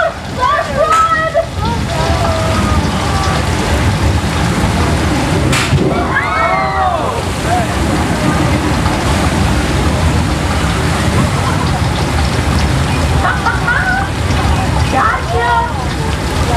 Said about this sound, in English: It's just the product of thousands of gallons of water being dumped down the hill